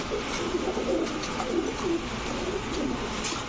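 Soft, low cooing from a female Rajshahi Giribaz pigeon repeating in short throaty phrases under a steady hiss of background noise.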